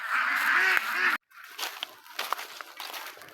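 Ducks on a farm being fed rice bran give a loud, dense burst of quacking for about a second, then fall to quieter scattered calls and rustling.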